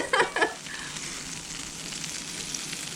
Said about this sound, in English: So take your butter on the end of a fork like this. Look at that sizzle.